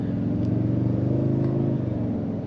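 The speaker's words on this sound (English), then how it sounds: "Oh, nice. That V6 sounds nice." A Toyota Tundra Platinum Hybrid's V6 engine accelerates under throttle, heard from inside the cab as a loud, steady, low droning growl with no talk over it.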